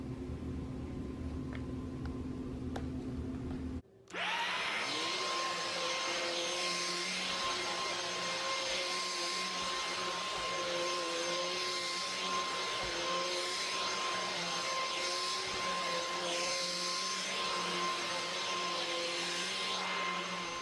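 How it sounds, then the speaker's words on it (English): Vacuum cleaner running while a bedroom is vacuumed: a steady, loud whining drone that switches on abruptly and holds for the rest of the time, close and unbroken with no talk. "I finished vacuuming my room"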